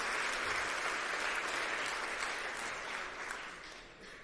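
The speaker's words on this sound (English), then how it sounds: "I'd like everyone to give a massive 10 out of 10 round of applause to Krzysztof." Sustained applause from a conference audience greeting keynote speaker Krzysztof at App.js Conf 2026, a dense, steady crowd clapping throughout that eases off slightly toward the end.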